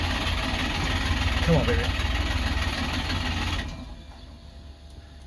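A two-stroke car engine is choked and cranked on the starter, a loud steady mechanical churn lasting several seconds before it suddenly drops away. Someone speaks briefly over the noise.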